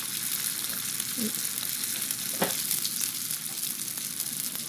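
Steady crackling sizzle of vegetarian tofu-skin fish frying in hot oil over low heat, with a couple of soft clinks of a utensil, no voices.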